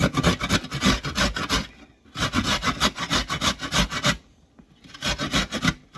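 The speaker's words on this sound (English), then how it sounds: "next we're going to grate up a little carrot" A carrot is grated by hand for coleslaw in three bursts of rapid rhythmic rasping strokes, loud and close, with short pauses between them and no voices.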